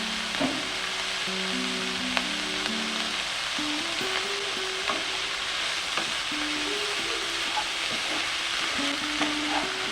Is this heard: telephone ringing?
no